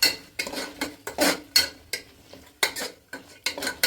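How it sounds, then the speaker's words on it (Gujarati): Crushed almonds stirred in a pan over a low flame for carrot halwa, a spoon scraping and clinking against the metal in repeated close strokes about twice a second. "પછી આમ ફેરવા કરવાનું એટલે એનું બદામનું તેલ હોય થોડુંક છૂટું પડી જશે"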